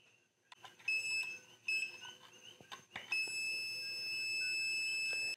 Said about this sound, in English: if it's good, we should hear a beep